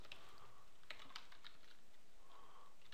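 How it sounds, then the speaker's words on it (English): Typing on a computer keyboard while entering a gallery title during photo gallery theme setup, with scattered soft key clicks in small bursts over faint room noise and no talking. "I'm going to just type in a random title here."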